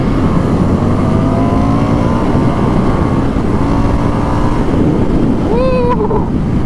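A 2019 Indian FTR 1200 S motorcycle accelerates hard on a back road, its engine rising in pitch through the gears beneath heavy, constant wind roar from riding at speed.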